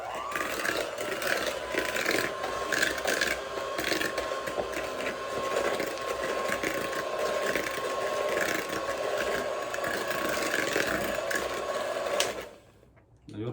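A stand mixer beats firm butter until soft for a pound cake, a steady mechanical whir with rattling, ratcheting texture running continuously for about twelve seconds before cutting off abruptly.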